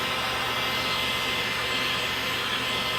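A MaxxHeat heat gun blows hot air onto tape, a steady loud whooshing hiss of motor and airflow that holds constant throughout, close up with no voices.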